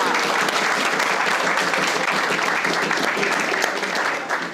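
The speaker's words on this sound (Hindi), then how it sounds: "तो पहले तो पाकिस्तान के लिए तालियां।" An audience claps together in a hall during a talk about earning money on Fiverr. The applause is dense, rhythmic and fairly loud, with faint crowd murmur beneath, and tapers at the very end.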